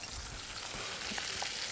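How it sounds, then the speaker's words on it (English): A whole fish sizzles in a big frying pan over medium-high heat, a soft, steady crackling hiss close by with a few small pops, and no talking. "You wanna hear a nice sizzle"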